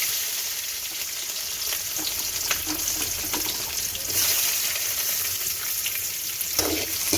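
Onions frying in a pan for a samba wheat kichadi with broken cashews, a steady close sizzle running throughout with occasional stirring scrapes and no talk.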